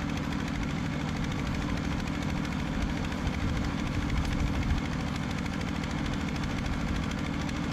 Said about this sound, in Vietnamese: Chiếc máy cày này chạy tương đối là nhanh và êm ái.